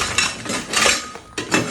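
A metal cooking pot, dug out during a kitchen renovation, clinks and clatters as it is handled, giving several close, bright metallic knocks and scrapes in quick irregular succession.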